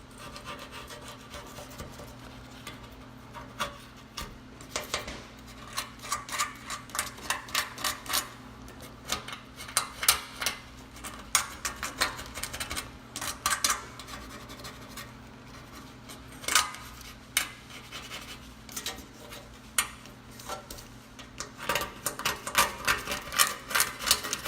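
A tool scrapes grime off a stove, working around its nooks and crannies in a steady run of short, rasping strokes that grow busier and louder toward the end.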